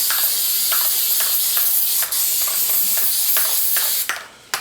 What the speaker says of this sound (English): knowing that I need to spray the opposite side. And I'm just using 3M Super Trim adhesive.